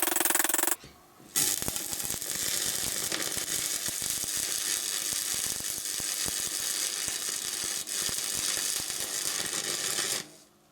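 Welding the steel base of a homemade hydraulic dirt bike stand: a loud, steady crackling buzz of the arc that runs for about nine seconds after a brief stop near the start, then cuts off, with no voices.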